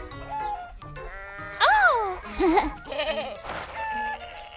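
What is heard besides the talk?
goat bleating in a cartoon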